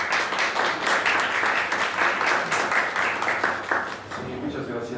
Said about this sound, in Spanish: Por favor, demos un aplauso de bienvenida al doctor Rubén Cárdenas Ríos